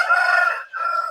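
A black rooster of a fighting breed crows loudly and close by, a sustained bright call with a brief dip before the final stretch, and no talking.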